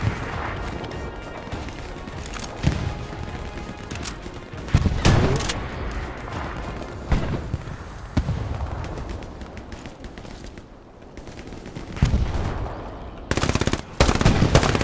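Rapid bursts of automatic gunfire and single shots crackle through a squad-based trench firefight in a video game, loud and close, coming in clusters with short pauses between them.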